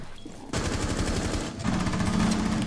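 A burst of rapid, loud AK rifle fire in Rainbow Six Siege, two close volleys in quick succession with a sharp mechanical crack to each shot.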